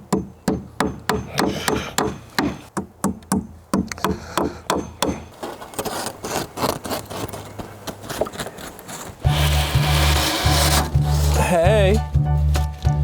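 A hammer drives roofing cap nails into wood at a homestead garden bed, giving a rapid, close series of sharp wooden knocks that thins out midway. Then a louder rustling and scraping takes over while a voice speaks.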